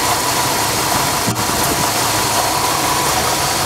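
A 1963 Mercury Monterey car engine idles steadily and loudly up close, a constant mid-range rumble with no speech over it.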